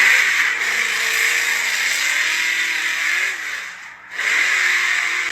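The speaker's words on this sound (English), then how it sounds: "this Chris Forsberg's old 370Z VK56 drift car" Nissan 370Z drift car fitted with a VK56 V8 revving loud and close, a sustained high engine roar with rising and falling pitch, a short dip near the end, then revving hard again.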